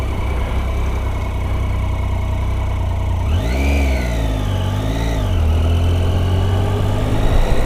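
Motorcycle engine rises in pitch as the bike accelerates, then eases and pulls again over steady road and wind rumble, heard from the rider's position with a continuous loud drone.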